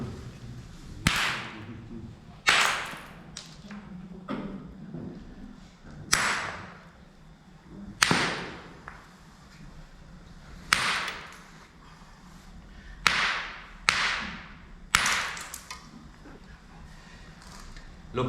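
Stone struck against stone to knap lithic flakes, a series of sharp, loud cracking hits spaced a second or two apart, close, with faint rustling between blows.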